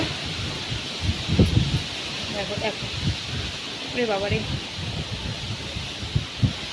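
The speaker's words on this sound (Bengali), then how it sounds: "কী পরিমাণে ঝড় দেখো, আর হাওয়ার আওয়াজ তো তোমরা বুঝতেই পারছো" Strong storm wind gusting and rustling, a steady broadband roar with swells as a person exclaims and talks over it.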